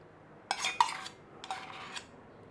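Sugar and butter being creamed in a bowl for traditional gingerbread, two short bursts of utensil scraping and clinking against the bowl, close and moderately quiet, separated by a brief gap.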